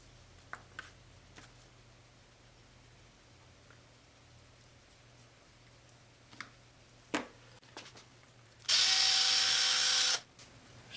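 Engine work on a 1979 Triumph Spitfire, with scattered clicks and clanks of tools on bolts followed by a loud burst of about one and a half seconds of whirring, ratcheting power-tool noise close by, then quiet.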